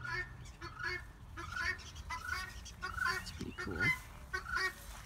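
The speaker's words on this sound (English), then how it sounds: "You hear that? That's one of their guineas." Guinea fowl give repeated harsh, rhythmic cackling calls among a flock outdoors near cactus plantings, fairly close, while a person speaks briefly over the clamor.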